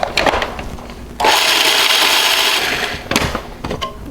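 A blender or food processor whirs steadily for about two seconds as basil pesto is blended finer, starting and stopping abruptly between bursts of clatter and handling noise; no one speaks.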